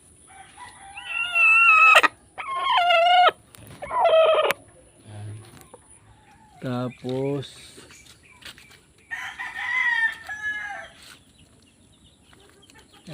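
Backyard chickens, including a laying hen and a brooding hen, cluck and squawk in several loud, close bursts with pauses between, while a person briefly speaks among them.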